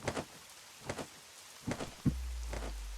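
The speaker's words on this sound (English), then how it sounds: "Yeah, it's raining." Rain falling in the video game Lyca, a steady broadband hiss with soft drop textures, brief louder bursts recurring, and a low rumbling swell entering near the end.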